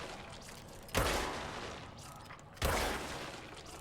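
Two loud, sharp gunshot blasts from the video game Control, spaced about a second and a half apart, each trailing off into a lingering rumble over faint ambient hum.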